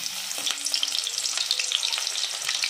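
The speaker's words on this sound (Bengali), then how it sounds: "তেল গরম হয়ে গেছে, এবার ফোড়ন" Two small pieces of cinnamon and two cardamom pods go into hot oil for a tempering, giving a loud, steady, crackling sizzle with some light stirring and no talk.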